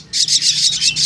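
Caged starlings, including Bali, white and Suren (Asian pied) mynas, chirp in a box, giving a run of loud, shrill, closely spaced bursts with a steady low hum underneath.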